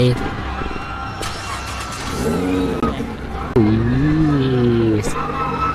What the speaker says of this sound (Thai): สตาร์ท รถ ได้เท่มาก พร้อมซิ่งครับพร้อมซิ่งโอ้เสียงโคตรซิ่งอ่ะ